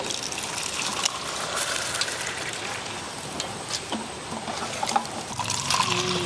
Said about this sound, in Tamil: டம்ளரில் ஊற்றிக்கலாம் ஐஸுக்கு